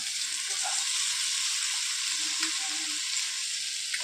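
Salted lemons and their juice hitting a hot pan for white lemon pickle, producing a constant bright hiss and sizzle with faint stirring underneath.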